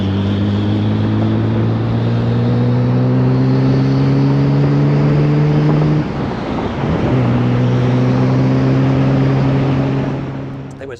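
A 1973 Porsche 911 RSR fitted with a GT2-spec 993 twin-turbo engine drones with a loud, steady tone, dips briefly partway through, then returns before fading at the end.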